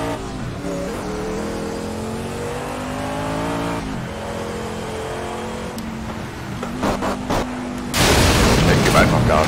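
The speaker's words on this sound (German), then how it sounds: "Ich gebe einfach Gas jetzt." Race car engine revving and accelerating on the Nordschleife in Project Cars, a steady droning motor rising in pitch with gear changes, then a louder rushing surge near the end, with people talking over it.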